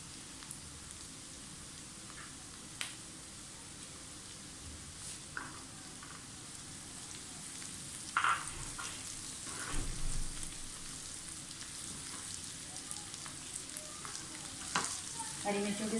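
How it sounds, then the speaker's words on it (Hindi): Onions and green chillies frying in a pan, a steady soft sizzle running throughout with occasional light clinks and stirring scrapes, fairly close and quiet, with no talk. "प्याज फ्राई होना शुरू हो गया है।"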